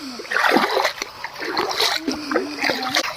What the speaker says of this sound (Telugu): తినడం అయితే అయిపోయింది, గిన్నెలంతా కడిగేస్తున్నాను.